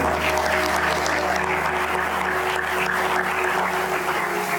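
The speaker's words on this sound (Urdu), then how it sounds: "زوردار تالیاں اپنے خداوند یسوع مسیح کے لیے۔" A church congregation applauds during a sermon, steady, loud, sustained clapping from many hands filling the whole stretch without a break.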